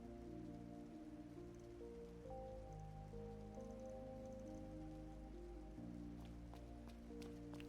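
Steady rain falls at night in a video game, a dense even patter holding throughout under sustained background music.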